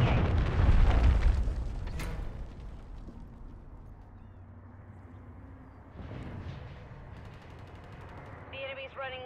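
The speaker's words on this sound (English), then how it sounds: "Friendly cruise missiles deployed." Cruise missile explosions in the video game Modern Warfare 3, a heavy booming blast up front followed by a fainter rumble and scattered game effects, with voices speaking over the action.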